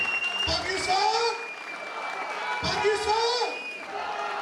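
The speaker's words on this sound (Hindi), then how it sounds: "तालियां जोर से मारें आप।" Audience at a Pakistan Muslim League Minority Wing Minority Day programme claps, a dense, fairly close wash of many hands with a few raised voices and cheers mixed in.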